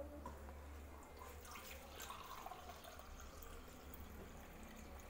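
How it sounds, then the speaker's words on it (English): Lemon water poured into a glass, a faint steady trickling and splashing stream heard alone at low level. "And pour the lemon water."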